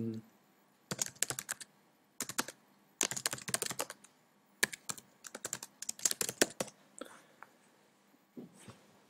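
Bursts of computer keyboard typing, rapid clattering key presses in short clusters separated by pauses, fairly close, as text is entered into a WordPress page; no voices break in.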